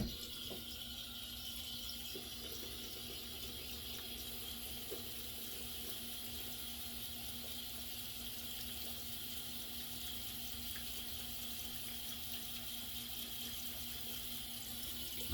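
Tap water runs in a steady, even stream to rinse a Gamechanger safety razor fitted with a Treet blade, a constant close splashing hiss that lasts the whole stretch with no talking.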